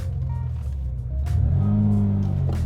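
A Lamborghini LM002 truck with a five-speed manual pulls away in first gear, its engine rising from a low idle rumble into a deeper, louder rev as it moves off, close by and without voices.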